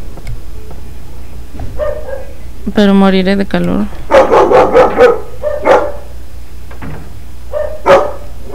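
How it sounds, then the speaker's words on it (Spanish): A dog barks indoors in a rapid burst of several sharp, close barks, with a few more scattered yips. A person talks before and between the barks. "Cerraría mi ventana para que no se escuche mi perro"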